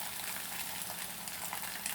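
Tofu skin frying in a pan with oil gives a steady, dense sizzle and crackle that carries evenly through the short stretch, close and fairly loud, with no voices.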